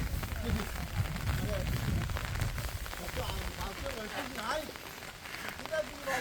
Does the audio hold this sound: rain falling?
yes